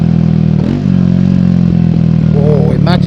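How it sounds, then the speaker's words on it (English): A 2024 Triumph Speed 400 motorcycle, new and not yet broken in, runs with a loud, steady engine thrum on the road, close to the mic, with a rider speaking briefly over it. "Oh, it's a great sounding bike."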